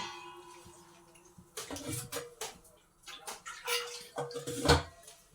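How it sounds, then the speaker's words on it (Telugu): Water poured from a vessel into a pot in a home kitchen while making sago and semiya payasam, a few splashy pours with metallic clinks of the pot, close and moderately loud. "ఈ చెమ్ముతో రెండు చెమ్ములు వాటర్ పోసుకుందాం"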